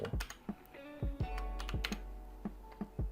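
Text being typed on a computer keyboard: a handful of distinct, close keystrokes at an uneven pace, with no voices.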